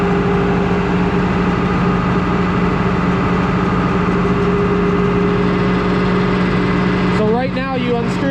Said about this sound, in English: So you can hear the tractor, it's just running, pretty much nothing running it